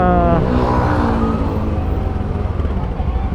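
Engine and road noise from cars moving through congested, mostly one-way streets in a busy Philippine town centre, a steady nearby rumble with a passing vehicle swelling early on.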